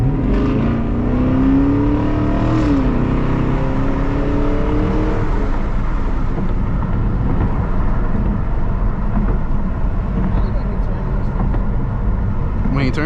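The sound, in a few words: Chevrolet Camaro SS accelerating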